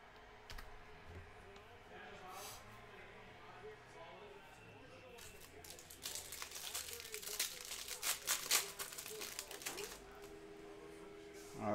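A 2019-20 Upper Deck Allure hockey card pack is torn open, with crinkling foil and sharp ripping bursts over light clicking, rising to a louder cluster of tearing in the middle before settling.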